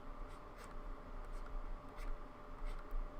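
A pen scratches across paper up close while drawing a chemical structure, a phenyl group, in short soft strokes over a faint steady background hum.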